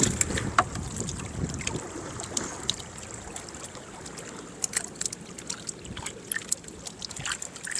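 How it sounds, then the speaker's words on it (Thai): A strong river current rushes and swirls around a boat, giving a steady watery wash with frequent splashes and slaps against the hull, close and fairly loud, along with some wind buffeting the microphone. "น้ำไหลแรงนะครับ"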